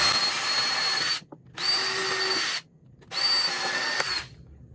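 A power drill pre-drills holes into wood near the edge of a DIY planter box board, three close whirring bursts with short pauses between them, no voices.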